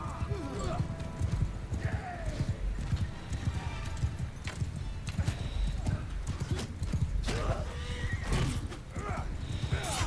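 Horse cavalry gallops in the video game Bannerlord, with a rapid, busy patter of hooves and repeated neighs and whinnies over a noisy battle backdrop, and a voice speaks over it.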